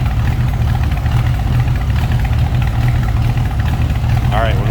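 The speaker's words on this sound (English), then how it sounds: "A little rumble coming out of that 302." A 1973 Ford Maverick coupe's 302 V8 with aluminum heads idles with a steady, deep, loud rumble up close, unbroken throughout.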